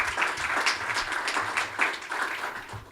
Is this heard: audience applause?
yes